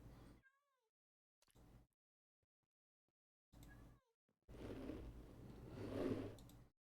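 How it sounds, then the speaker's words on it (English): Cats meow in the Minecraft video game, several short distinct mews separated by silence, followed by a longer stretch of louder, denser cat cries near the end. "That's too many kitties."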